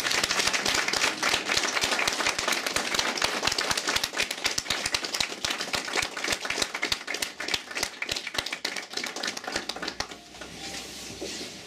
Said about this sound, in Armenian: ուզում եմ մի հատ ավելի բարձր ծափահարենք